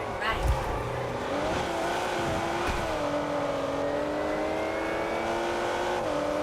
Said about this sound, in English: I love the noise of the Jaguar